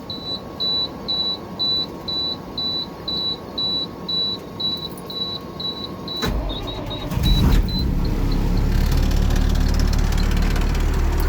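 Two buses started cold, one after another: a steady beeping runs for about six seconds, then the engine cranks and fires with a loud rumble that settles into a strong, even idle.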